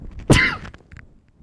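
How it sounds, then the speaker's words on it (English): A single sharp, loud sneeze at close range, followed by a brief quiet trail and faint sniffing afterward. "Just got a little tickle in my nose and I sneezed."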